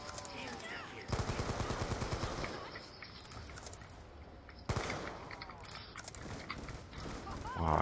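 Rapid automatic gunfire from Black Ops 2 Zombies on the Die Rise map, with dense bursts of shots starting sharply, easing off, then breaking out again loudly, while players talk over it.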